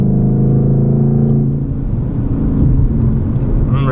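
Engine of a 2020 Ford Mustang 5.0 with the muffler deleted, heard from inside the car at night as a loud, steady droning rumble that changes pitch as it accelerates through the gears.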